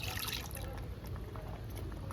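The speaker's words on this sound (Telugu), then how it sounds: "ఈ కుక్కర్లో కొంచెం వాటర్ వేసి కడుక్కొని ఈ పప్పులో వేసుకోవాలండి." Water is poured into lentils in a pressure cooker, a faint, short liquid splash and trickle that stays low and continuous throughout.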